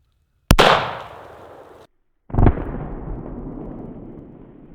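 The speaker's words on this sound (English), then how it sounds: "let's just shoot it again just to see what happened" Two sharp, loud gunshots fired at a row of lined-up cans, each a hard crack followed by a long decaying rumble, about two seconds apart, with no talking.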